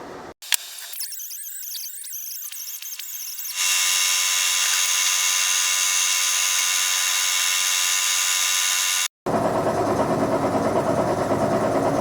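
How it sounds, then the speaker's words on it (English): A power-driven wire brush scrubbing parts of a Palmgren tilting machinist vise, loud and continuous, with a steady motor drone that starts up partway through, cuts out for a split second near the end, then resumes. "clean these up with a wire brush."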